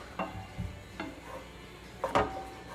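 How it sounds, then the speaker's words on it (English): Ground meat for chili browning in a pan while being stirred, with a few scraping strokes of the utensil over a faint, steady sizzle. "Should keep on stirring it until it gets all brown"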